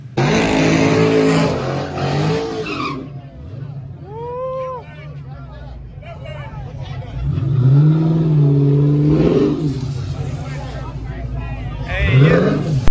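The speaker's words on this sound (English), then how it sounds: "Every time you do a pass, you're going to be doing a burnout, all right, like this." A Dodge Challenger does a drag-racing burnout on drag tires, its V8 revving in repeated rising and falling sweeps, loud and close, with tire roar between pulls and faint voices in the background.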